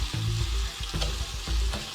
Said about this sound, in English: I'm going to add in your garlic, your minced garlic. Okay. You hear that sizzling just a little bit,